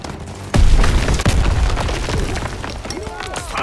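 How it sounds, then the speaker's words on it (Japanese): Gunfire and explosions from the World War II battlefield of a Call of Duty: WWII campaign, with a heavy blast followed by a rolling fusillade of shots and bursts, loud and dense, with voices mixed in. "銃声だ。"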